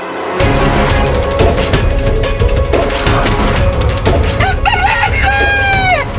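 A rooster crows loudly and close, its long rising-then-falling call stretching across the last couple of seconds, over a dense bed of dramatic orchestral music in a devotional television serial.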